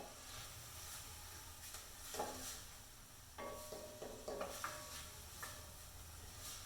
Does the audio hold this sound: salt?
yes